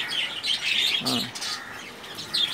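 Pigeons at a loft of high-flying birds give short squawking calls close by, with a brief lower call in the middle.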